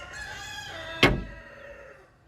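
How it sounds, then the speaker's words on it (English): Roosters crow repeatedly, one long drawn-out call running into another, with a sudden sharp knock partway through and the crowing fading afterward. "I wish my roosters would shut the F up."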